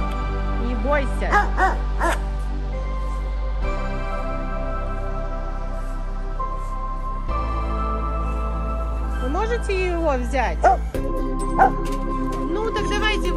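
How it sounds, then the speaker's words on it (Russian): Village dog in Dedkova barking and yipping in short bursts with a few whimpering yelps, fairly close, mixed in with people talking nearby. "Где-то здесь у нас ждет собака."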